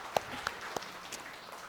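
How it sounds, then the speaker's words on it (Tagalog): Scattered applause from a church congregation during a sermon, a few distinct claps standing out over a soft, quiet background. "Palakpakan natin si Lord, pumapalakpak si tatay"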